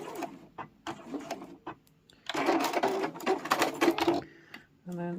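Sewing machine back stitching a small boxed fabric pouch at a quarter-inch seam: short stuttering whirs and pauses give way to a longer loud run of rapid stitching, then a brief stop and restart, close up.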